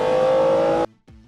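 A V12 production car engine shrieks at high speed with a loud, sustained high-pitched wail that cuts off abruptly, followed by a brief quieter engine tone.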